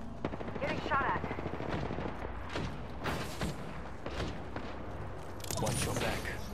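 Rapid automatic weapon fire in an Apex Legends arena match, repeated bursts and single cracks rattling at mid distance, with short quieter gaps and heavier thuds between volleys, and a voice speaking over the shooting.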